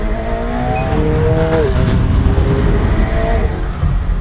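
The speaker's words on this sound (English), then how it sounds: "Listen to that. Oh my god, this thing is so fast. That engine is amazing." A 2018 McLaren 720S engine revs hard and accelerates, its rising, shifting whine loud and close, with no one talking.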